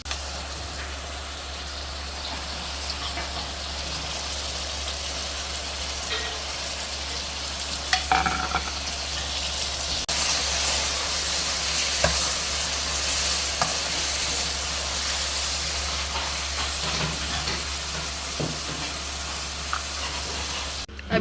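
Tinda gourds and chopped tomatoes stirred and frying in a pan, with a steady sizzle and occasional scraping of the spoon running throughout, close and continuous with no talking.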